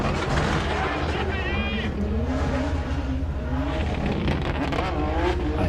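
Nissan S15 drift car on a track, engine roaring loud and continuous with rapid machine-gun-like anti-lag bangs crackling through, at a drift competition.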